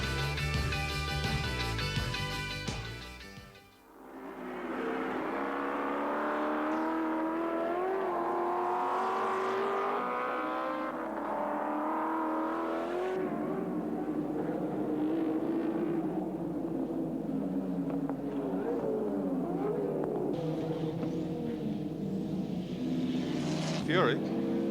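Touring cars racing at Calder Park in 1986, including car 30 and a Volvo, roar steadily with engine drone and passing whines throughout, under continuous commentary.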